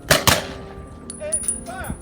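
Two loud, sharp gun reports ring out close together at a ceremonial salute for a pier dedication in Oyster Bay, Long Island, New York, followed by quieter outdoor sounds and faint voices.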